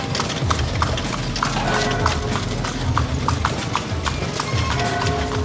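Horse hooves clip-clop in a quick, even rhythm at a kalesa stand where horse-drawn carriages wait, close and clear over a steady background murmur.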